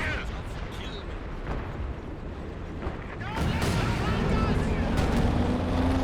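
Explosions and gunfire crackle through a Company of Heroes 2 match as units trade grenades, a dense continuous battle din that grows louder partway through, with voices talking over it.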